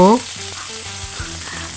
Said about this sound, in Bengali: এখন আরেকটা কড়াইতে তেল দিয়ে পেঁয়াজ দিয়ে ফোড়ন দিলাম।